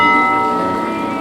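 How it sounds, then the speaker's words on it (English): A small travelers' bell at the Mojiko zero mile monument in Mojiko, Kyushu, Japan rings with a single bright, sustained tone that slowly fades, heard alone and close. "they even have a little bell here for the travelers to ring it for the best on their journey"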